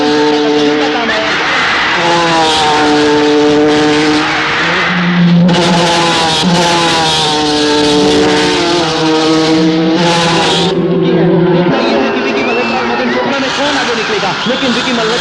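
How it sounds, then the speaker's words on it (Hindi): Race cars speed loudly through a film race, including a red number 30 car, with a continuous engine roar beneath an excited commentator who talks throughout. "अपनी कार पर पूरा नियंत्रण रखते हुए दाहिनी ओर से मल्होत्रा आगे निकलते हुए"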